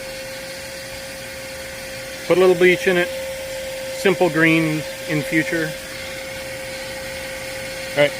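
A vacuum pulling air through an AC drain line runs as a steady, continuous drone with a constant tone throughout, while a person speaks over it in short bursts partway through.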